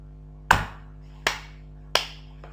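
Three sharp hand claps spaced under a second apart, loud and close in a quiet room, each with a short ringing decay, followed by a faint fourth tap.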